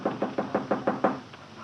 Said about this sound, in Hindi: दरवाजा खटखटा के देखता हूँ।